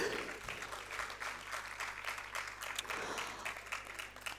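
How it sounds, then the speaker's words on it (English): An audience at a Bharatanatyam arangetram dance recital claps steadily for the backstage crew, a dense sustained applause of many hands throughout. "Every single member backstage needs a big applause."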